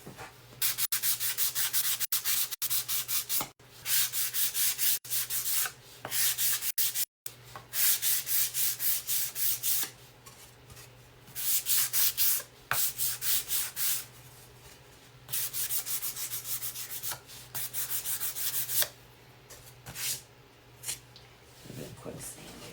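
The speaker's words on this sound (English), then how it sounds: "Quick sanding." Hand sanding of a painted wooden fence peeker, with rapid scratchy back-and-forth strokes in bursts broken by brief pauses, close and steady throughout.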